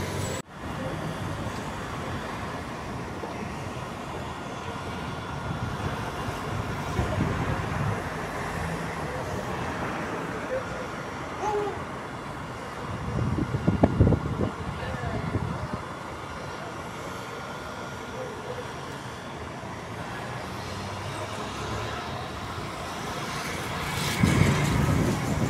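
Buses are maneuvered around a Suzantur and Itapemirim bus company garage in Santo André, giving a continuous engine rumble from some distance with louder revving surges near the middle and at the end.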